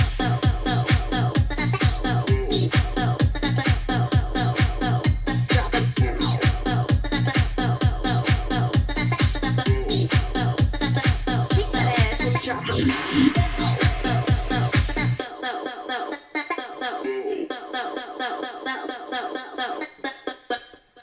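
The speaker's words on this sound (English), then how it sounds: "So here's a playthrough of the tune that I made" Electronic dance track built on a Dutch-style vocal lead synth, with a pounding four-on-the-floor kick and bright chopped lead that plays loud and continuous before the beat drops out, leaving a thinner lead line near the end.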